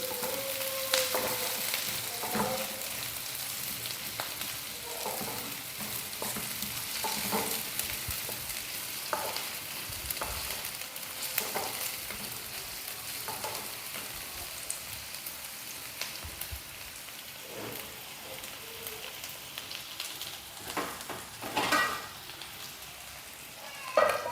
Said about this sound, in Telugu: ఉల్లిపాయలు, కరివేపాకు అలాగే పోపు దినుసుల్ని మనం ఆయిల్లో కొంతసేపు ఫ్రై చేసుకుందాం.